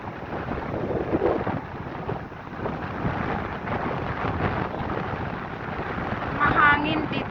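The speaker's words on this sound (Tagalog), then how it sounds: "Mahangin dito sa park." Strong wind gusts buffet the microphone at Admiralty Park on the Bermuda seaside, a steady broadband rush with rough surges and waves churning underneath, loud and continuous throughout.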